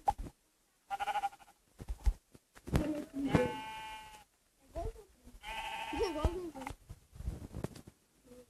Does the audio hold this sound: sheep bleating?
yes